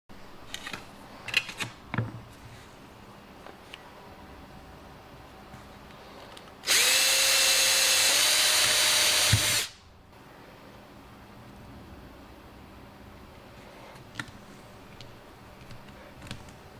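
A power drill drives a self-tapping screw into a Shelby GLHS door during window felt replacement, one loud, steady whirring burst of a few seconds, set between quiet handling clicks and taps.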